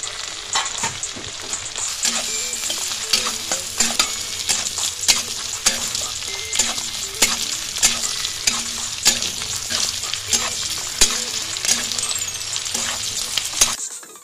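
Capsicum and carrot stir-frying in a pan for chilli chicken, a steady close sizzle broken by frequent sharp clinks and scrapes of a utensil against the metal, continuous for the whole stretch with no voices.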